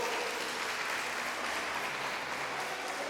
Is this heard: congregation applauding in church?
yes